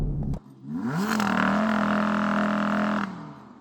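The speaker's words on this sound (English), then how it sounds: "Can you rev up your engine, Daniel?" An Audi R8 engine revs up sharply after a brief noise, holds a loud, steady high-pitched drone for about two seconds, then drops away.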